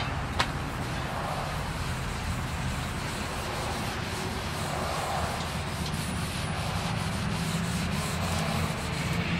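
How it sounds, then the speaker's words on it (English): A buffer or pad works rubbing compound into a boat's gel coat, giving a steady, close abrasive whirring and scrubbing that runs unbroken throughout with no talk. "we're going to go ahead and buff this out. Put some compound on the rake."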